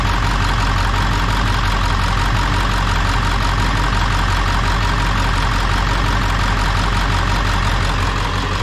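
A 2000 Ford F250 with the 7.3 Powerstroke diesel idles steadily, a loud, close, continuous clatter with a rhythmic knocking beat and no voices over it.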